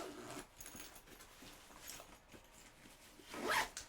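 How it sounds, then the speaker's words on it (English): A bag being zipped shut gives one quick, loud zipper pull close by near the end, after a few seconds of quiet handling rustle and low room noise. A faint dog whimper may sit in the background. "Oh, I can actually zip this up."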